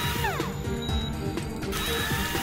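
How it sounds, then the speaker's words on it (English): A surgical drill runs in a surgery video game, giving a loud, continuous mechanical whir with repeated grinding clicks and tonal game effects over it. "Pick up the drill."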